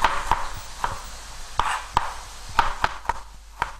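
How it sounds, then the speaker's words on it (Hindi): A knife chops through ginger for julienne strips on a cutting board, a series of about ten crisp, close taps in an uneven steady rhythm, with no talking. "जो जूलियन कटिंग हमने की है, एक एक अदरक के पीस को हमने कर लिया इस तरह से"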